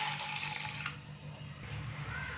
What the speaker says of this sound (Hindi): 1 कप हम इसके अंदर पानी डालेंगे।